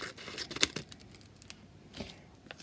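Printed stickers from a Xyron sticker maker are torn off, giving a few close, quiet ripping and crinkling bursts of paper, one sharper tear near the start and another a moment later.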